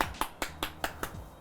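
A series of sharp claps or snaps from a live studio audience at a cooking show, about seven evenly spaced hits in quick rhythm, close and crisp, with no talking.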